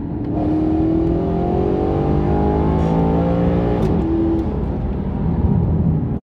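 Car with air suspension accelerating in second gear, a steady loud engine drone whose pitch climbs and levels off over several seconds, heard from inside with no talk.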